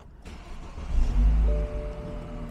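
A BMW 3-Series Sports Wagon engine cranks and catches, swelling into a brief rev before settling into a smooth, steady idle close by, with no talk.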